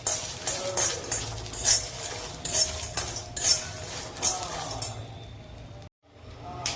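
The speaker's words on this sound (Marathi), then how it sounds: "शेंगदाणे पण चांगले भाजून घ्यायचे।" Peanuts roast in a pan with chillies while a spoon stirs them, giving repeated close clinks and scrapes of metal on the pan before the stirring fades and briefly stops.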